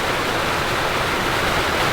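Rushing water from a small waterfall at Gold Strike Canyon hot springs, a loud steady broadband hiss filling the whole stretch, close and unbroken.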